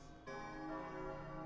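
A bell chime rings out in the video game Kingdom Hearts: Chain of Memories, striking once after a quiet moment, then sustaining a rich, steady ringing tone at moderate volume, no talking.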